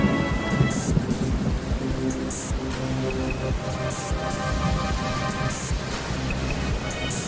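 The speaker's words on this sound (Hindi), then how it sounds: "तभी तेज बारिश और तूफान आ गया।" Heavy rain hissing steadily through a thunderstorm, with low rumbling thunder underneath and bright crackling bursts recurring every second or so, loud and close, no voices.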